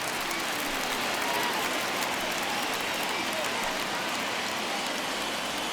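A stadium crowd in the video game MLB The Show 21, Braves vs. Phillies, roars and cheers as fans rise to their feet, a steady, loud wash of noise that holds for the whole stretch without letting up.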